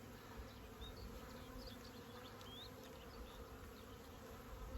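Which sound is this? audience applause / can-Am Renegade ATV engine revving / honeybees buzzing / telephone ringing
honeybees buzzing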